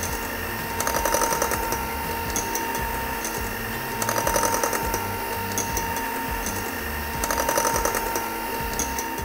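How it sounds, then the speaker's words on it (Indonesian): An electric mixer whirs on low speed through a strawberry pudding mixture in a bowl, a steady mechanical drone with rhythmic rattling swells every few seconds, close and without talk. "langsung aja kita nyalakan mixernya"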